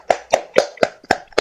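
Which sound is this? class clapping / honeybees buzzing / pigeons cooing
class clapping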